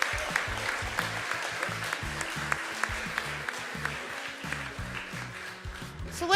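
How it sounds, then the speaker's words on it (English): A steady round of applause from an audience at the Cathaoirleach Awards 2023 ceremony, dense clapping that holds throughout with rhythmic background music playing underneath. "We get a round of applause, thank you."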